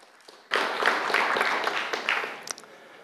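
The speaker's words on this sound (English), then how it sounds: "Applaud him," A conference audience bursts into applause for a programming talk, the clapping starting suddenly, holding steady and loud for two seconds, then thinning out into a few scattered claps.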